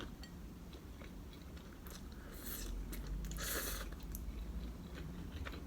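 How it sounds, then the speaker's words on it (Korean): Garlic scapes in a shrimp pasta chewed crunchily, soft close-up bites and crisp crunches in short bursts over a quiet room hum. "뭔가 이 아삭아삭한 게 무슨 맛으로 먹는 게 아니라 그냥 식감으로 먹는 그런 느낌?"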